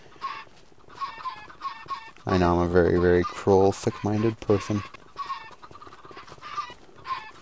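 Loud, squawking clucks from chickens in Minecraft with the Future Craft mod burst out for a couple of seconds in the middle, while someone talks before and after them.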